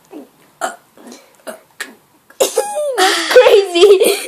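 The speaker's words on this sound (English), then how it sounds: "Do as much burps as you can." A person belches repeatedly, first several short separate burps, then a long loud drawn-out croaking burp, all close to the microphone.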